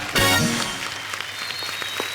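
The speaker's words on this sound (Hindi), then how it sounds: "इस बात के लिए जोरदार तालियां बनती हैं।" Studio audience applause on a Hindi comedy talk show, a short burst of clapping that swells quickly then fades under a lingering musical tone.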